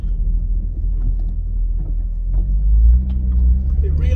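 An old Citroen ZX driving on a road, with a steady low engine and road rumble from inside the cabin that swells slightly partway through, without a break.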